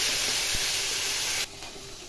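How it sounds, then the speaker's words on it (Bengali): Meat frying in a pan alongside fried potatoes, a steady close sizzling hiss that drops sharply in level partway through, with a brief clack near the end. "একটু লাল লাল হয়ে গেলে মাংসটা একটু ভাজবো। এবার মাংসটা দিয়ে দেবো"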